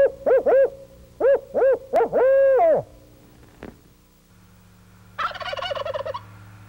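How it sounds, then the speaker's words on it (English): Several loud owl-style hoots from a locator call ring out in quick succession, then a single wild turkey gobbler answers with a rattling gobble from a distance. "I usually use an owl call or owl hoot just to locate a gobbler"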